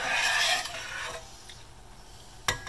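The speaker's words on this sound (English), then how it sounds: "give it a quick mix" Chopped cilantro stirred through a pot of cumin pepper rasam, a brisk scraping and rubbing mix that lasts about a second before a quieter pause and a single sharp clink near the end.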